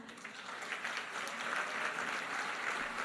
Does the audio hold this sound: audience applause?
yes